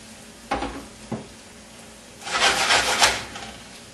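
Chicken browns in olive oil in a pan, with a few sharp scraping stirs early on, then a louder burst of sizzling and rustling toward the end.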